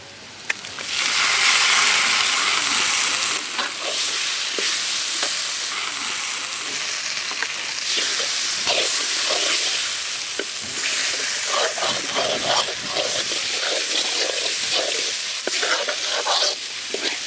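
Cashew and poppy seed paste is stirred into masala frying in a pan for a mutton bone kulambu. A loud, steady sizzle runs throughout, with scraping strokes of the spoon recurring close up and no voices.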